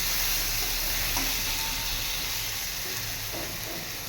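Catla fish frying in a pan, a steady bright sizzle with soft spattering running throughout at a constant, moderately loud level, no voices.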